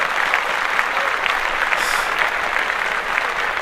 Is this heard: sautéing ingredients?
no